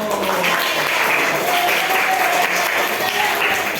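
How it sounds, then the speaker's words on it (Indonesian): A classroom group of teachers in training applauds group 1 after a presentation, a steady wash of many hands clapping at close range that fills the whole stretch without pause. "Untuk kelompok 1 tepuk tangan dulu"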